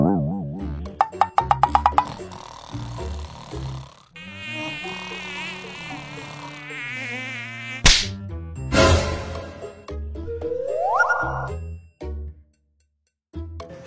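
Mosquitoes buzz in thin whining tones that rise and waver, mixed with sharp slaps and whip-like whacks and some electronic sweeps in a Telugu comedy scene, with no talking.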